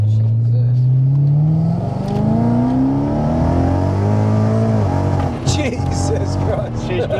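Supercharged 666 hp BMW M3 Touring engine revs up and down with a rising whine from the front intake, loud and close inside the car, with people talking over it.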